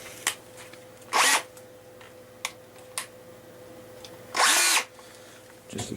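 Two short, close bursts of a small drill revving as it bores through wood, separated by quiet pauses with a faint steady hum and a few light clicks.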